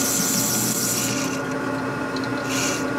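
A hand tool is worked back and forth to face off a part of a 1958 Harley-Davidson Panhead 74 ci engine during a top-end repair, making close, steady rasping and scraping strokes with no voices.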